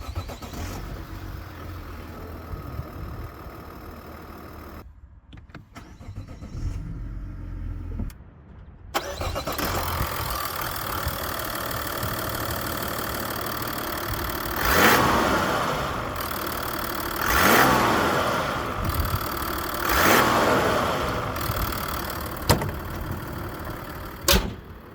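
A Mazda CX-60's 3.3-litre inline-six turbodiesel starts after a brief quiet gap, then idles and revs in several swelling bursts, a deep steady rumble close by.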